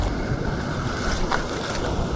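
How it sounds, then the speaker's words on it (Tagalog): Heavy ocean waves batter a small fishing boat at sea off Puerto Princesa, Palawan, a constant loud roar of water and wind noise buffeting the microphone with no talking. "Grabe Grabing alon."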